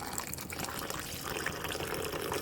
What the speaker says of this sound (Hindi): तो अब इसको इसमें थोड़ा पानी ऐड करेंगे